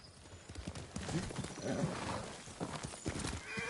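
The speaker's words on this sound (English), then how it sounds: "Horse!" Hoofbeats of a horse galloping in the video game Ghost of Tsushima, steady clip-clop with a brief whinny, heard amid ambient game sound and faint music.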